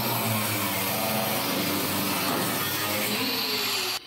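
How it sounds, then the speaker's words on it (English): A cutoff wheel grinds continuously through sheet metal welded at the corners on a 1950 Mercury body, a loud, harsh, steady whine with no talking, stopping abruptly just before the end. "So that's about as much as I can get with the cutoff wheel because it's welded in the corners"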